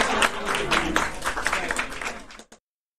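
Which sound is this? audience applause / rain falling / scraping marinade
audience applause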